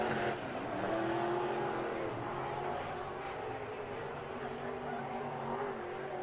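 Dirt late model race car lapping at Atomic Speedway, a steady sustained engine roar at moderate distance with slight rise and fall over the whole stretch, no voices heard.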